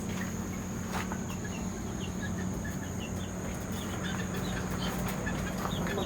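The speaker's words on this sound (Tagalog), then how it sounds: "Diba, mayroon tayong mga sisiw." Chickens and chicks clucking in a farm setting, steady soft chirps and clucks running throughout over a constant low hum, with no talking.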